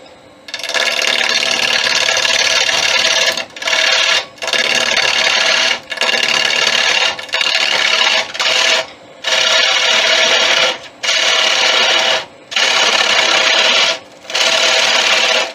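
Wood lathe turning the squared ends off a wooden sword prototype, a loud, close rasping cut in repeated passes about a second long, separated by brief pauses as the tool lifts away.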